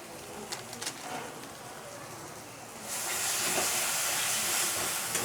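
Chicken curry spice paste with chilli sizzles and hisses loudly in a pan after water is added, a quieter crackle giving way to a strong, steady hiss.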